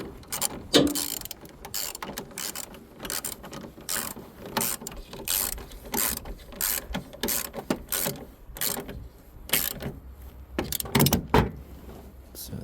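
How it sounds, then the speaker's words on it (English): Hand ratchet tightening a bolt while an alternator is fitted to a 2013 Toyota RAV4 with a 2.5 engine, giving rapid bursts of sharp, close clicking in uneven runs, with short pauses between strokes. "you finish it off with the ratchet"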